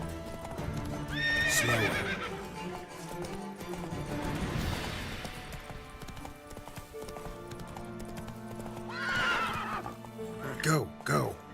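Roach, Geralt's horse in The Witcher 3, gallops with steady hoofbeats and whinnies loudly twice, once near the start and again near the end, while someone talks over the game sound.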